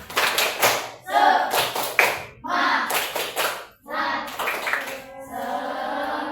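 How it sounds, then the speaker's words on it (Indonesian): A classroom of pupils performs a rhythmic spirit clap, bursts of group clapping and patting in short patterned phrases separated by brief pauses, close and lively. "Tepuk Semangat."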